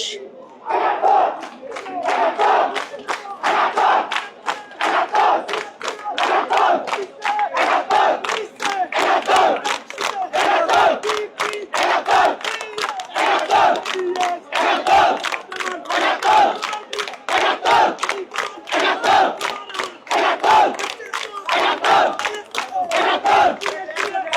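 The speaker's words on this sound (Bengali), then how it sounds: "সিনেট ভবনে আমরা দেখতে পাচ্ছি শিক্ষার্থীদের উল্লাস।" Crowd of students outside the Senate building during the DUCSU election, chanting and cheering loudly in a rapid, rhythmic pulse, with shouted voices and some clapping, sustained throughout.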